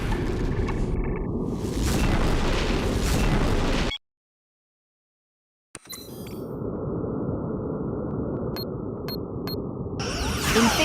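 Starship phaser fire and explosions in the space combat game Star Trek Legacy: loud sustained blasts and booms, then a sudden silence, then more rumbling fire punctuated by brief bright pinging hits.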